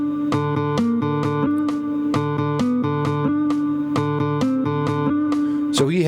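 Distorted electric guitar plays a harmony line, crisp repeated picked notes in a steady rhythmic pattern with small melodic steps, heard alone, loud and close, ending on a brief slide.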